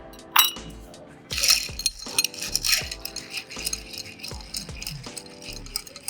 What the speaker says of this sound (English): We'll get a cube in there in this glass.